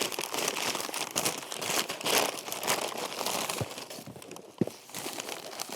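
Air bubble wrap packaging for a Honda Transalp 750 rear rack being handled while unpacking, dense crackling and crinkling close to the mic, continuous with a few sharper pops and rustles.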